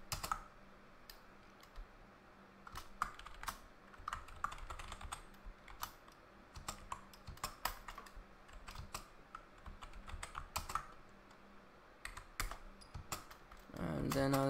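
Java code typed on a computer keyboard: a steady stream of close, quiet key clicks in irregular bursts with short pauses, no voice.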